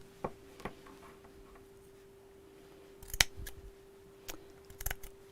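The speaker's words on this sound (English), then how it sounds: "I may be snipping into some of the fur" Scissors snipping through fur fabric for a bag, a few sparse, quiet cuts and clicks spread out against a faint background hum.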